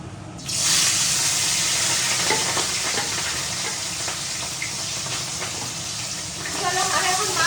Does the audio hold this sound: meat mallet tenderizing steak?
no